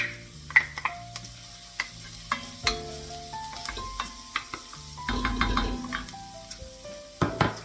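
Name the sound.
chopped garlic frying in a pot for minestrone soup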